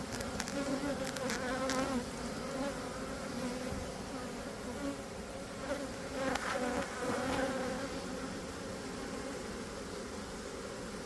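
Honey bees swarm densely around an open hive, with a steady, thick buzzing drone that persists close and continuous throughout, unaccompanied by voices.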